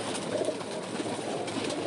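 Breeder pigeons in a loft during molting season give soft, low cooing, faint and continuous over a short stretch with no voices.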